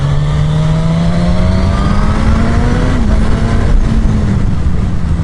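A 2015 Suzuki GSX-S1000 motorcycle accelerates hard in low gear, its engine note droning loud and close and climbing steadily in pitch, with a slight dip partway through and heavy wind rush throughout.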